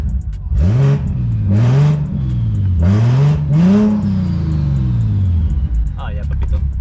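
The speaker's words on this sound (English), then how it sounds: "Let's get some revs real quick." A BMW 340i xDrive with a top-mount single turbo kit and open downpipe is revved four times in quick succession, the engine note climbing and falling each time, loud and close, with a steady idle between blips.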